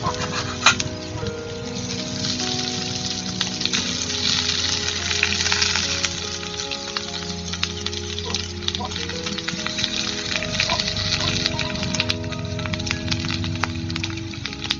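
Boiled potatoes frying with browned onions in a pan, for egg and potato chops: a steady, close, dense sizzle and crackle that runs evenly throughout, with occasional stirring scrapes.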